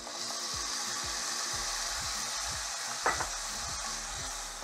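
Tomato puree and spices for sev tomato sabzi fry with a constant gentle sizzle, while a spoon scrapes and stirs the pan in a repeating rhythm.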